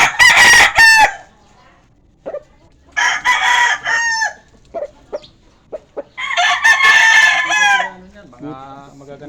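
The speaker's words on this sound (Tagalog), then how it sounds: "Dami pa ng manok na idol" Chickens and roosters kept for sale crow and cluck loudly and close by, with several long crows separated by short clucks and scattered calls, and no talk over them.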